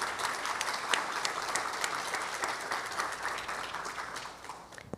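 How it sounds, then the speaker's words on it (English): At a family conference, an audience gives a round of applause for people who came up on stage: steady, dense clapping from many hands, moderately loud and tapering slightly toward the end. "I would like everybody here to just give them all a round of applause"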